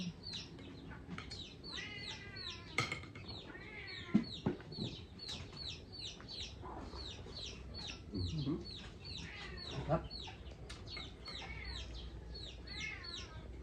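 Chickens cluck and crow repeatedly at close range, a busy farmyard chorus of clucks with occasional louder calls and a few bumps in the background, in a Philippine home.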